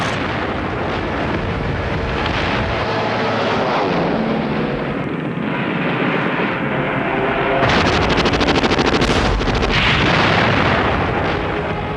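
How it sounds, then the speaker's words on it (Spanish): Bombers from the carrier Enterprise attack Japanese aircraft carriers: loud, dense wartime noise of aircraft roar mixed with explosions and gunfire bursts, continuous and harsh throughout. "Los bombarderos del Enterprise fueron al ataque."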